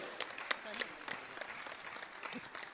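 Enthusiastic audience applause at a Jain religious discourse gathering, a steady wash of many hands clapping with a few sharper claps standing out, filling the whole stretch at moderate level.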